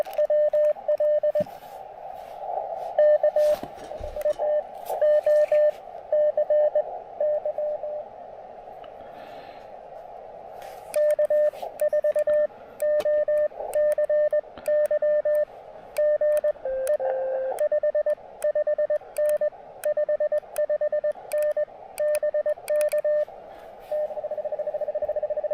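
Steady bursts of CW Morse code tones repeat from a radio's message memory as a CQ call goes out on 80 meters during a portable park activation, the beeping clear and close with brief crackling pauses between calls.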